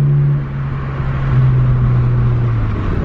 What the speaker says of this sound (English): Ooh, that downshift, you can hear.